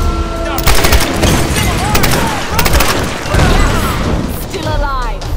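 Rapid gunfire in the Tomb Raider video game, with repeated loud shots and bursts mixed under a busy game soundscape and overlapping voices.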